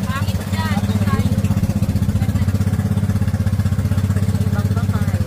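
A motor boat engine at the Bilaran sand bar in Pagbilao, Quezon, runs close and loud with a fast, even chugging pulse, while a voice talks briefly at the start and again near the end.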